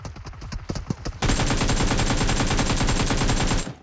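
Loud rapid automatic gunfire in a video game: scattered shots first, then a dense, sustained burst of fast repeated rounds that runs for over two seconds before cutting off.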